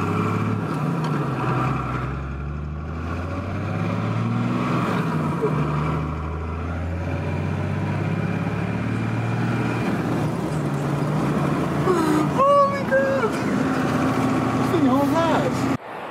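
A turbocharged truck with a fixed boost leak accelerating, its engine droning low and climbing in pitch in several pulls, heard from inside the cab with someone talking over it.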